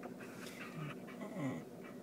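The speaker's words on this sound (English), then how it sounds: "oh, there's the dog!" A dog pants and whimpers close by inside a car on a school carpool run, soft breathy huffs with a few short high whines over steady road rumble.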